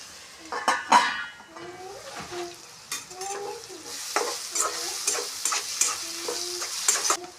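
Onions with salt and turmeric cook in a covered pan for a dried prawn and cucumber curry. A close, busy sizzle mixes with stirring clatter and several short squeaky tones, and no voice is heard.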